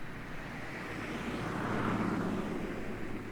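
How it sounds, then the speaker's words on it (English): Passenger airplane engine from inside the cabin in the Higurashi visual novel, a continuous broadband roar with low hum that swells gently midway, steady and without talk. "And then the plane gently turned before entering the airport runway."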